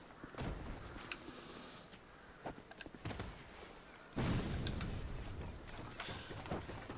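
In Dark Souls 2, a thrown bomb goes off with a heavy, booming blast midway through, set among scattered thuds, clanks and game sounds.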